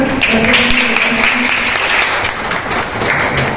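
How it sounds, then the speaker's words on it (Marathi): Applause from a B.Ed. college audience after a practical session on understanding the self, a dense steady clapping that runs through the whole stretch with a few faint voices mixed in. "त्याबद्दल टाळ्या वाजवा"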